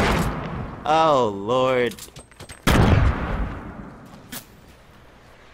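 Fortnite battle royale gunfire and explosions: a loud burst of booming fire and a sharp blast midway, with scattered shots trailing off, while a man groans in dismay.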